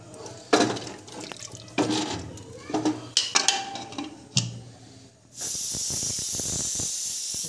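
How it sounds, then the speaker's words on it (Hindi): Clattering kitchen sounds, then a loud, steady hissing whistle of a pressure cooker bursts in and keeps going without a break. "दो सीटियाँ आ गई कुकर में"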